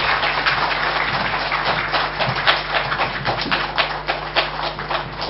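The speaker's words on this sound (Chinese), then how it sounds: "掌声有请陈教授。" Audience applause welcoming a history professor onto the stage at a public lecture, a steady wash of many hands clapping that fills the room evenly at moderate loudness throughout.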